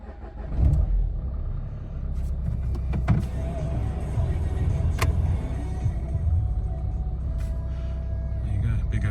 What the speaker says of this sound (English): Let's just start her up so you can see there's no nasties.